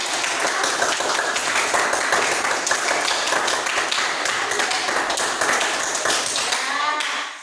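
Enthusiastic clapping from a group after a class presentation fills the whole stretch, dense and steady, then tapers off abruptly at the end.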